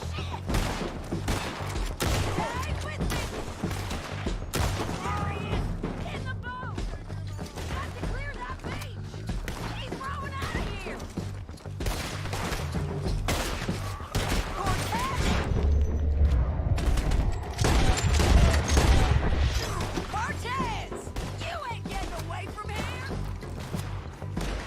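Red Dead Redemption 2 gunfight with repeated loud gunshots, some in rapid volleys and others single cracks, alongside impacts and booms, with a voice speaking in between.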